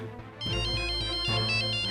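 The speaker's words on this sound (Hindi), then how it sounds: "कब से फोन बज रहा है?" A phone ringtone repeats in short melodic bursts, loud and close in a home, ringing on and on unanswered.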